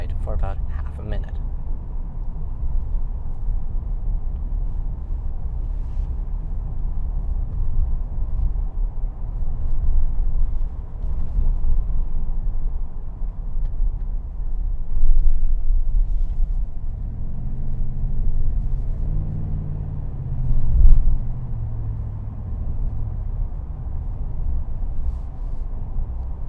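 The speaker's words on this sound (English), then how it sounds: "hear how it is to drive the vehicle out of the first person" Cabin drone of a 2021 GMC Sierra 1500 Denali pickup driving at night, a steady low engine and road rumble heard from inside, swelling briefly as the truck accelerates, with no talking.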